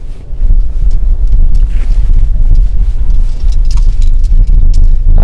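A Ford car with a PowerShift transmission starts up and rolls over loose gravel, giving a steady loud low rumble with gusty wind-like noise throughout and faint scattered crunching on top.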